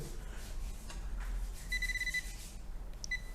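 A Pulsedive waterproof pointer metal detector in sound-only mode gives short, high electronic alert beeps, a sustained tone followed by a brief repeat, faint over low background noise.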